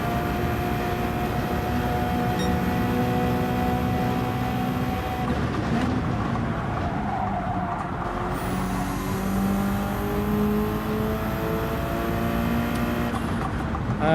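A Subaru BRZ engine drones steadily on track at Willow Springs, rising and falling through gear changes over a long stretch, with wind and road noise loud inside the cabin.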